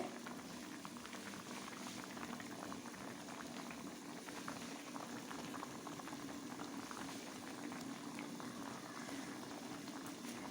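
A thick gravy of pabda fish and prawns with raw green banana boils steadily in a pot, giving a continuous close bubbling rumble that holds an even level from start to end with no talk.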